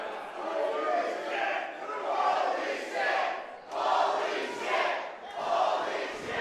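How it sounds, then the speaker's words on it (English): Wrestling crowd at a match between Jake Parnell and Alex Zayne cheering and applauding, swelling in repeated waves of roaring noise that rise and dip every second or so, fairly distant and reverberant. "The crowd showing their appreciation."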